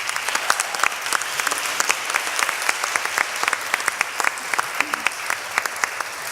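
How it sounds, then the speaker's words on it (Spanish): Audience applause fills a university forum hall marking a campus radio station's 16th anniversary, a steady dense patter of many hands clapping at moderate loudness with no voices over it. "les pido un aplauso"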